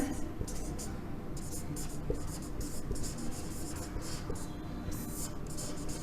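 Pen scratching steadily on paper while an answer to a quadratic-equation exercise is written out by hand, close and continuous in short bursts of strokes over a low background rumble.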